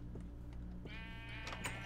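Sheep bleating in a video game, a few short bleats followed by a louder, longer wavering bleat over a steady low background hum.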